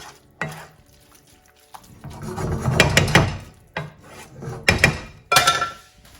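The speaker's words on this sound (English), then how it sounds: "I'm just going to give it a good mix so it's evenly distributed." A spoon scrapes and stirs through a boiling pot in a series of uneven rubbing strokes, close and moderately loud, separated by brief quiet gaps.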